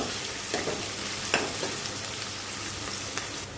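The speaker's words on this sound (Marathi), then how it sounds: "त्यामुळे कांदा थोडासा असा आपल्याला लाल होऊ द्यायचा" Onion with crushed curry leaves frying in a pan, a steady dense sizzle throughout with a few sharper crackles and stirring scrapes, close and fairly loud, no talking.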